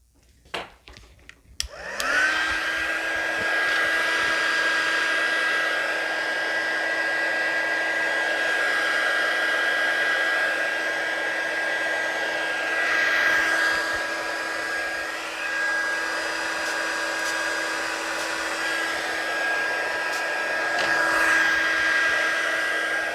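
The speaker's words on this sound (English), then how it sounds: "we will spritz and use the heat tool and see what happens" A craft heat tool starts up after some brief handling clicks and then blows steadily over an alcohol marker background, a continuous close whirring hiss with a fixed whine that holds for the rest of the clip.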